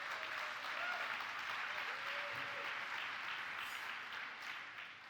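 Conference audience in a large hall applauding in answer to a show-of-hands survey question, a steady wash of many hands clapping at moderate distance that holds for about five seconds and tapers slightly at the end.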